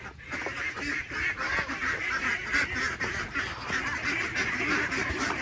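A flock of ducks being fed, honking and quacking continuously in a dense, overlapping chorus close by, with no pauses.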